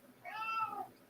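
A house cat gives a single short meow, rising then falling, fairly close but soft against a quiet room.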